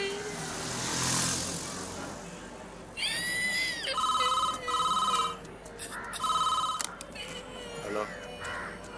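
A telephone rings in a Tamil crime film, its electronic ringtone sounding in repeated bursts near and clear after a stretch of outdoor noise with crows cawing.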